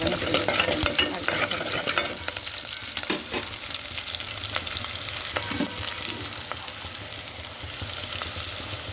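Steady, close-up sizzle of food pan-frying until reddish brown for a moong dal and bottle gourd dish, with a few scraping stirs and no talk.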